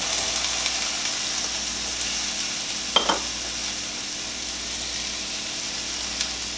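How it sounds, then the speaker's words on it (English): Peppers and ginger sizzle steadily in a hot stir-fry pan for sweet and sour chicken, a close, even hiss broken by one brief clank of a utensil midway and a faint tap near the end. "So first we're going to go ahead and cook our peppers and our ginger."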